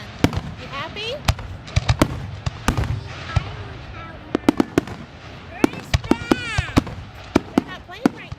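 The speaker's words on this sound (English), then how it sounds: "It's a fireworks show." 4th of July fireworks show, a series of sharp bangs and crackles at irregular intervals, some with whistling trails, loud and nearby while people chat and someone talks between bursts.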